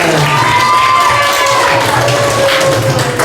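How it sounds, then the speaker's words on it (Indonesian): A school audience at a children's competition claps and cheers loudly, dense clapping mixed with voices and shouts, filling the room at close range. "Tepuk tangan semuanya."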